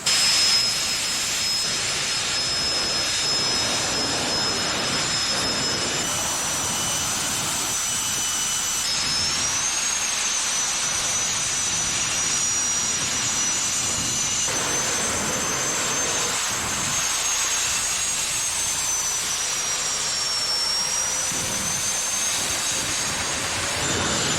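A loud, sustained jet dragster engine roar with afterburner lit, a high whine running steadily throughout, close and continuous with no talking.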